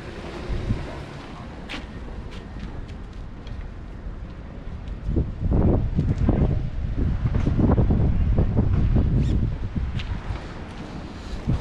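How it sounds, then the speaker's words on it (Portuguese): Cold wind blows outdoors in gusts against the microphone, building and staying stronger toward the middle, with rustling and some faint background noise mixed in. "Na verdade, não tá frio, tá um vento gelado."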